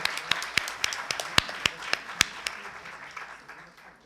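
Audience at a talk with historian Lilia Schwarcz clapping for her: a sparse, uneven patter of individual claps, fairly near, tapering and fading toward the end.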